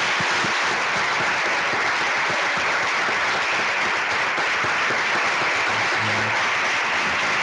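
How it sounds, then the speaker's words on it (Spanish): Audience applause at a university award ceremony for innovative teachers, steady dense clapping of a crowd sustained throughout at moderate level, without speech. "entonces le damos un fuerte aplauso"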